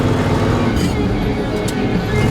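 A 1972 Ford F250 Highboy truck cruises in third gear, giving a dense, steady engine and road rumble from inside the cab, with no clear voice over it.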